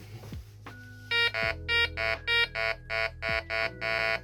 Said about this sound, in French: Je vais passer un clou devant le détecteur, un petit clou en fer.